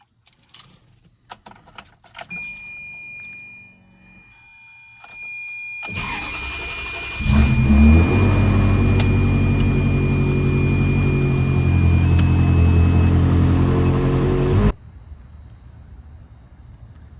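A Ferrari 360 engine cranks and catches, then runs steadily with a loud, low rumble for several seconds before cutting off; a jangle of keys comes just before.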